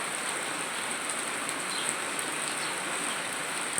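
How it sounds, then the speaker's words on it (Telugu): Heavy rain pours in a steady, dense hiss that holds at an even level throughout, with no talking. "ఎంత పెద్ద వర్షం అండి చూడండి"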